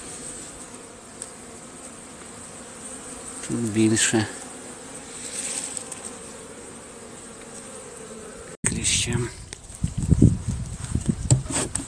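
Honeybees hum in a steady, close buzzing drone during a hive inspection before wintering, with handling noises and a brief spoken remark in Ukrainian near the end.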